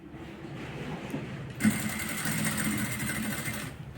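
A sewing machine stitching a coat collar hums and whirs steadily, with a brighter, louder motor burst in the middle that ends abruptly, close and fairly quiet.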